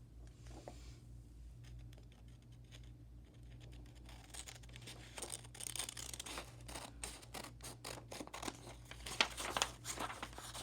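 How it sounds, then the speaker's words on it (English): Paper being cut out with scissors for a children's apple tree craft, a run of crisp snipping and crinkling clicks that grows busier toward the end, close and alone over a low steady hum. "And then we're going to cut that out"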